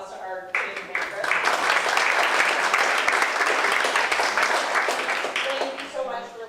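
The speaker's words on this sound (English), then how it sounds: "let's give one more round of applause to our Changemaker." An audience at a community speaker-series event breaks into loud sustained applause, dense clapping swelling for several seconds, then tapering off.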